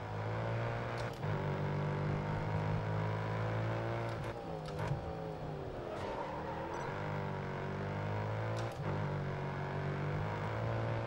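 A street car in the racing game Grid Autosport accelerating hard, its engine note climbing and holding loud and steady with brief dips at gear changes, continuous over several seconds with no voices.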